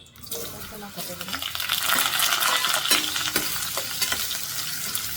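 Ingredients roasting in hot oil and ghee for a mushroom masala spice paste give a steady close sizzle with scattered stirring clatter and a few sharp clicks, running continuously throughout.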